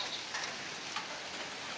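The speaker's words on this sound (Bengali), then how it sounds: "ভালো বৃষ্টি জোরে শুরু হয়েছে" Steady rain falls outdoors near a pigeon loft, a soft continuous hiss with faint scattered drop ticks, fairly quiet and without voices.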